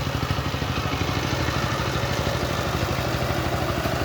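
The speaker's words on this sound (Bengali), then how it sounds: "সুন্দর করে হাল বইতেছে পাওয়ার টিলার দিয়ে" Power tiller ploughing a field, its small engine chugging loud and close in a fast, steady rhythm with a rattling clatter throughout.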